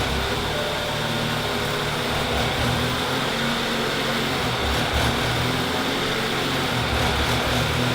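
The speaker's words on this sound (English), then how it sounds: "Let's start it up and see how the engine runs." A car engine with a faulty mass air flow sensor runs rough, a steady loud mechanical drone with uneven pulsing and broadband hiss, no voices over it.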